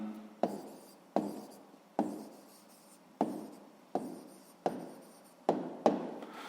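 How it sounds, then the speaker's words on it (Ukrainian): Pen or pencil writing down a math answer in a sixth-grade exercise, heard as a steady series of about eight quick, close scratching strokes at a regular rhythm, with no voices. "Ну що ж, записуємо відповідь."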